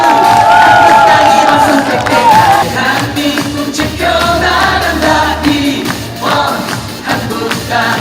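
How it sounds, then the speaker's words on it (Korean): A standing crowd at a Liberty Korea Party rally in Ulsan ahead of the June 13 local elections claps and cheers loudly and steadily throughout, a dense continuous roar with shouts rising above it. "한 번 더 큰 박수로 맞이해 주시기 바랍니다"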